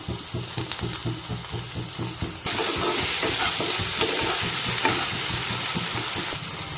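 Tomatoes fry in a hot pan for vermicelli upma, giving a steady sizzle that swells louder partway through, with light stirring scrapes and no talk.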